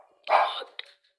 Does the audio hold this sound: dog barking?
yes